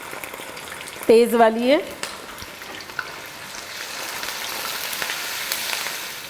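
A paste of ground serrano green chilies fries in a pot of pulao with a steady, close sizzle that grows a little denser toward the end; a brief spoken remark cuts in early on.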